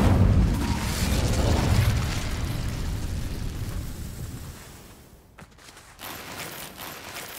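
Incendio fire spell cast in Hogwarts Legacy, a loud burst of whooshing flame and rumble that slowly dies away, followed by a short crackle and a quieter tail.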